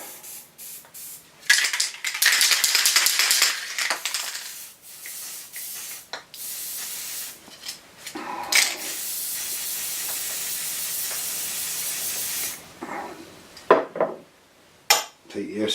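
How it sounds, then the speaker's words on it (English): A nearly empty can of TTF lubricant spray, used while making coin rings, hisses in two long bursts with sputtering breaks and a few small clicks and knocks around them. "TTF spray looks like it's getting near the end of its life."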